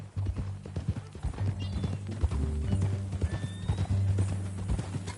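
Horse whinnying and hooves clopping in Red Dead Redemption 2, with a steady rhythm of hoofbeats over low rumbling ambience and a short neigh in the middle, fairly close and loud.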